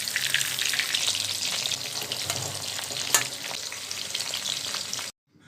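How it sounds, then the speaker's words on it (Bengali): Chicken pieces for chicken Manchurian fry in hot oil over a low flame, a steady, dense sizzle lasting several seconds with one brief louder crackle before it stops abruptly. "এবার আমি চিকেনের পিসগুলো ভেজে নেব।"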